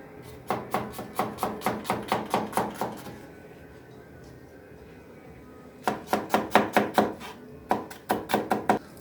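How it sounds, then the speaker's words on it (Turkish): Quick, even knife chops of an onion on a board in two bursts of about a dozen strokes each, with a quiet pause between. "Direkt soğanını doğrayıp Devam ediyoruz."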